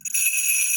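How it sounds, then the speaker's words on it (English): Bright, steady jingling of sleigh bells, high and shimmering, sustained without pause for under a second, with no voices. "that's the sound of sleigh bells jingling"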